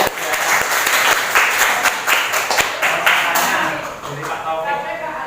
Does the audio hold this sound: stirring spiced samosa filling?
no